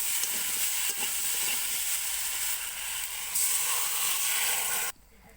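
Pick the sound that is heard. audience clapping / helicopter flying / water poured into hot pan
water poured into hot pan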